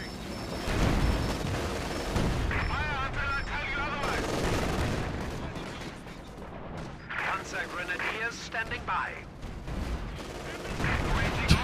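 An anti-tank gun fires in a WWII strategy video game amid a battle, with heavy booming shots and bursts of gunfire repeating near and far over rumbling noise, while a person talks over it.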